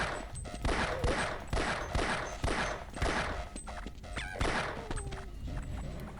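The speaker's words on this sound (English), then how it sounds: "I'm shooting you." Gunshots in Half-Life Blue Shift ring out in a steady series of loud, sharp cracks about twice a second, with brief uneven gaps toward the end.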